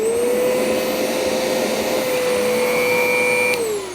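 A Riccar Tandem Air vacuum cleaner switched on, running with a loud, steady motor whine that holds one pitch throughout, close and alone, then starts to wind down at the very end.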